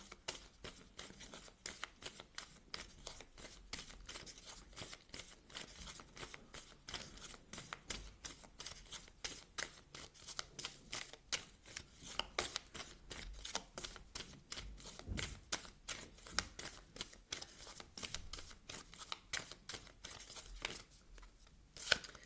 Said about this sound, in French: je vais d'abord également vous tirer, j'avais oublié, une carte ici de l'oracle de Denise Line.